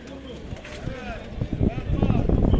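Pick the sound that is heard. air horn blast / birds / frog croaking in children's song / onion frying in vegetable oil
birds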